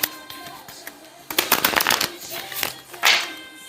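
A deck of cards is shuffled in a few quick riffling bursts, clattering close and fairly loud, with softer handling sounds in between and no voices over it.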